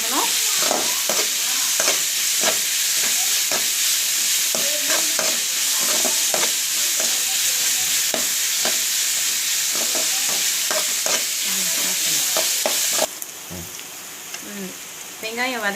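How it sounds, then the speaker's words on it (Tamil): Chopped onions sizzle loudly in a pan for a Tamil turkey-berry kara kuzhambu while a spatula scrapes and taps in a steady stirring rhythm; the hiss drops suddenly near the end, with a faint voice underneath. "வெங்காயம் வதங்கிடுச்சு"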